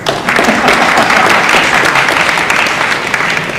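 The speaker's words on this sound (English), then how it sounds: "I think you deserve another round of applause" Audience at a live IPO Watch event for JS Solar Holding Berhad giving another round of applause, dense and loud sustained clapping from many people filling the whole moment.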